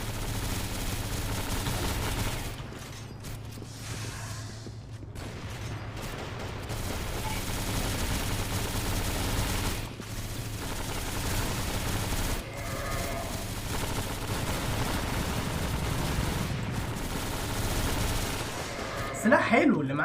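Gunfire in the online shooter CrossFire, with bursts and rapid shots over a busy game soundscape of steady tones and effects, along with occasional chatter.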